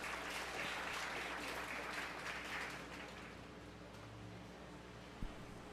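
Applause from spectators in a 4-H fair beef show ring, a steady wash of clapping that tapers off toward the end, with a brief thump near the close.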